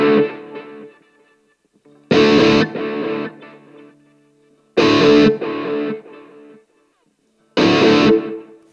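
Electric guitar played through a Blackstar AMPED 2 with delay: distorted chord stabs ring out in three separated bursts, each followed by quieter repeating echoes that fade into silence before the next strike.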